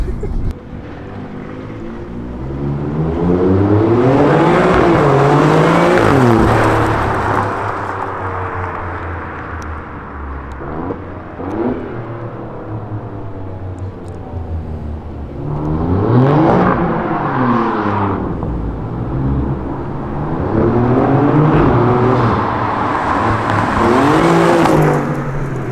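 Alfa Romeo Giulia Quadrifoglio with a flap-valve exhaust, revving hard close up: three loud bursts of climbing, rasping engine note, with quieter rumbling lulls between them and no talk.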